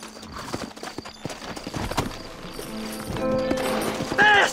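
Rapid hoofbeats of horses galloping in Red Dead Redemption, growing busier and louder, with a whinny-like cry near the end.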